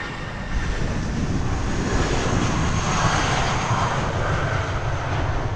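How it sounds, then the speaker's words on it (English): A Swiss Airbus A220 jet taxis at Heathrow Airport, its engines giving a steady, fairly loud broadband roar and whine that holds throughout with no voices. "That is the Swiss A220, taxiing for departure to Geneva."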